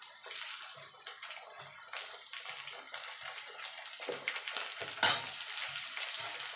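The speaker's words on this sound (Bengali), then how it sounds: "একটুখানি হালকা করে ভেজে নেবো যাতে সবজির কাঁচা গন্ধটা একটু চলে যায়" Pointed gourd and other vegetables frying lightly in a pan, with a gentle, steady sizzle broken by occasional scraping stirs and one sharper clink near the end.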